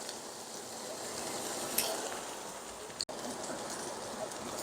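Boneless ribeye steak with butter on top sizzles steadily in a hot pan, a continuous close frying hiss with a couple of brief clicks from the pan.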